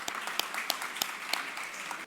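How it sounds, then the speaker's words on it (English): A short burst of audience applause at a tech innovation demo day event, moderately loud with a few sharper individual claps standing out over the steady clapping. "Let's give them all a round of applause."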